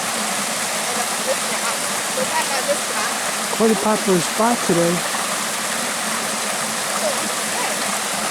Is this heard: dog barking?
no